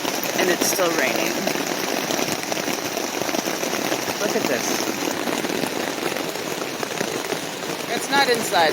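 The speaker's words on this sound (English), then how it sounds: "And it's still raining." Steady rain patters densely on a tent surface, a constant close hiss of drops, while a person briefly speaks.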